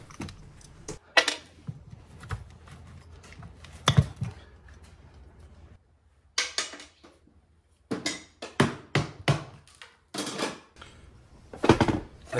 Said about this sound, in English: I use a crease nail puller to pull each nail out individually